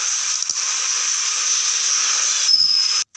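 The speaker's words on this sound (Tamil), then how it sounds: "தேவையான அளவு தண்ணியை விட்டு நம்ம சட்னியை அரைச்சிக்கலாம்" Mixer grinder grinding chutney made from sautéed ingredients with added water, a steady loud whirring hiss running alone for about three seconds before cutting off abruptly.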